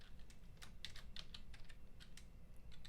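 Quick, faint clicks of a computer keyboard as text is typed in. The keystrokes come in an uneven, continuous patter over a low room hum.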